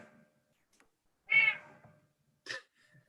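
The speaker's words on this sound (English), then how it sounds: "Loving the cat noises" A cat meows twice, a longer drawn-out meow followed by a short chirp-like one, close by in a quiet room.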